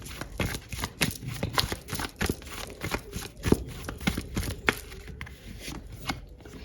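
Tarot cards are shuffled and drawn in a rapid run of crisp riffling and slapping flicks, close and fairly quiet, with no one speaking.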